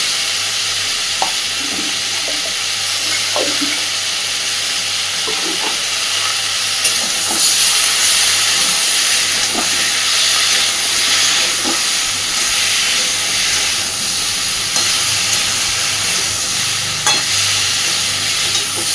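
Potatoes and pointed gourd fry in a pan for a fish curry, giving a steady hissing sizzle with occasional clinks and stirring taps throughout, moderately loud and without talk.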